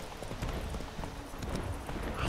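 Horse hooves pound rapidly in a steady galloping rhythm as a horse climbs uphill in The Witcher 3, with a dense, continuous clatter at moderate level and no talking.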